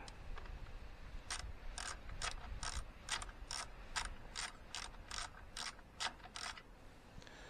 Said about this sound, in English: Right, so we've taken the bolts out.